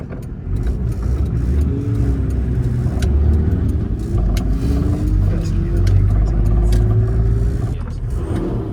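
A Toyota Land Cruiser Troopcarrier engine runs with a steady low rumble throughout, loud and close, with some faint background chatter.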